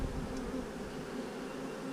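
Honeybees in a hive colony drone in a steady, dense buzz close at hand, continuous throughout with no voices.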